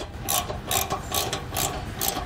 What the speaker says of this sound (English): then we can snug up our nuts there